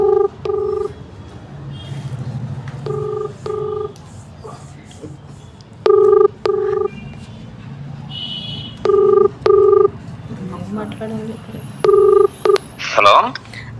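Phone keypad dialing tones play on speakerphone as a call is placed, several short bursts of paired beeps in quick groups, with people talking nearby between them.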